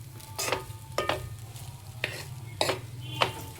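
Egg fried rice in a pan, with the fried egg being mixed in: a low sizzle runs underneath while a spatula scrapes through the rice in a handful of distinct strokes, close by.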